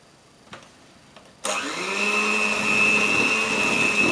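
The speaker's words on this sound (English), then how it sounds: "I guess now I can use the blender without fear." Blender switches on after a couple of soft knocks and whirs steadily at high speed, mixing honey cake batter for a Russian-style honeycake, loud and continuous with no talking.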